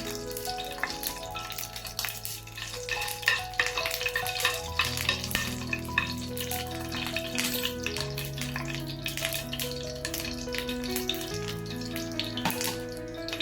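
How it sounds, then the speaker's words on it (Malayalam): Mustard seeds and dried chillies fry in hot oil with a continuous crackling sizzle and scattered sharp pops, heard close up under faint background music. "എണ്ണ ചൂടായി നമുക്ക് കടുക് ഇട്ട് കൊടുക്കാം. കടുക് പൊടി വന്ന് നമുക്കൊരു 3-4 വറ്റൽമുളക് ഇട്ട് കൊടുക്കാം."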